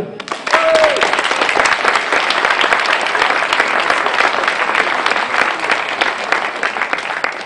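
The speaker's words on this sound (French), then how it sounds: "Vous pouvez vous applaudir." Audience at a political meeting in La Bazoge, Sarthe applauds steadily, a dense, loud wash of clapping hands that continues without a break.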